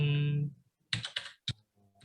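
Typing on a computer keyboard while entering MySQL database commands: a few quick clusters of close key clicks after a sustained tone, in an otherwise quiet room.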